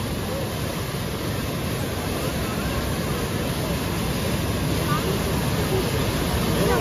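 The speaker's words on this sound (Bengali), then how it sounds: "অনেক শব্দ, দেখছো পানির যে শব্দ।" Water roars through a dam during heavy flow at a crowded fair and fishing festival, a dense continuous rushing noise heard close and loud, with no clear speech over it.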